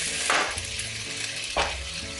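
Onions frying in a pan for pastitsio, a continuous close sizzle broken by two brisk stirring scrapes about a second apart, with no talking.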